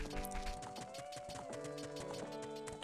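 Horse galloping in The Legend of Zelda: Ocarina of Time, a steady run of soft hoofbeat clip-clops layered under the game's continuous background music, fairly quiet throughout.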